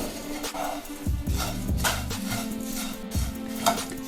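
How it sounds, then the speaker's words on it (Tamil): Poha (aval) mixture with sugar being stirred in a pan, with a steady scraping and clinking of a spoon against metal, close and continuous, with no voices. "இதை நல்லா கலந்து விட்டுடலாம்."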